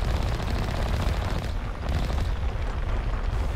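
Rapid, dense machine-gun fire from the Mako vehicle's guns in Mass Effect Legendary Edition, a continuous loud rattling barrage lasting the whole moment with heavy low booms mixed in.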